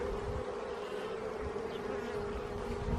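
Steady, continuous buzzing of many bees close by in a garden, droning without pause over a low background rumble.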